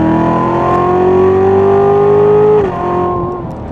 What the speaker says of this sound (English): We're on the interstate, so I'm just gonna do a little acceleration